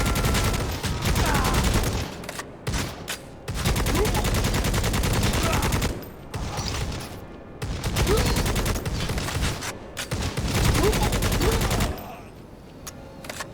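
Sustained automatic fire from a machine gun in the game Necromunda: Hired Gun, loud, dense bursts running for several seconds with short pauses between them, and a final quieter stretch.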